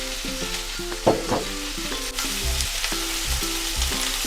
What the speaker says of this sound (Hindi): तेज आंच पर हम इस तरीके से इसको भूनेंगे।